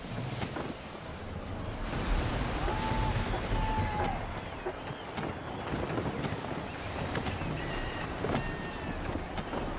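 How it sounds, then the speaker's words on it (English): Gusty wind roars over crashing ocean waves as a sailing ship cuts through the water in Assassin's Creed 3, steady and loud, with a few faint creaks and tones rising above the rushing noise. "Gusty winds can be difficult to manage."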